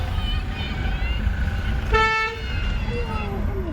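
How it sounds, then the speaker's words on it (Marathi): Car horns honking in busy Thursday town traffic in Rajapur, Konkan, one clear toot rising over a dense rumble of engines and street noise, with voices nearby. "आज गुरुवार असल्यामुळे भरपूर ट्रॅफिक आहे इथे"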